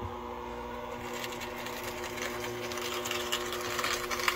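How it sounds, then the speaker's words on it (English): Stand mixer with a whisk attachment creaming butter and sugar on slow speed, giving a steady continuous motor whir with a faint rhythmic rattle throughout, close and unbroken. "I normally use this with the whisk part to incorporate the sugar in the butter"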